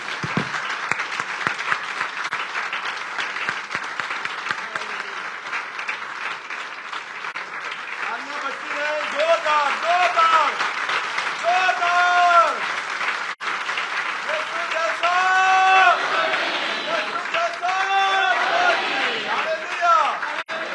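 A church congregation applauds to welcome a preacher during worship, sustained loud clapping that continues for the whole stretch while a voice speaks and calls out over it, with musical tones rising near the end.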